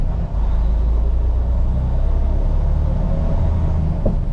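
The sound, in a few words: truck engine at full throttle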